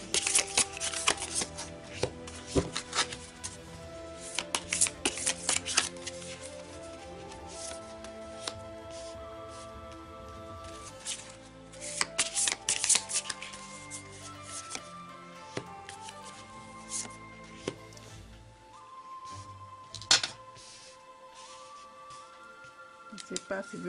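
Tarot cards being shuffled by hand in repeated riffling, slapping bursts at close range, scattered over a long stretch beneath a steady background of music and a voice speaking French.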